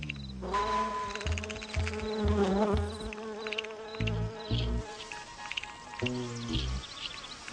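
Solitary bees buzz among garden flowers, the drone continuous with steady harmonic tones and several short low pulses as wings rise and fall, close and fairly loud.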